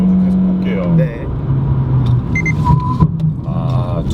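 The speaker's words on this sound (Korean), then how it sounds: "이 사운드를 얘기하신 거구나. 그죠. 흡기 사운드." Engine intake sound of a Kia Forte Koup while driving, a steady droning hum that rises and shifts in pitch under continuous talk inside the car.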